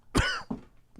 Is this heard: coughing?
yes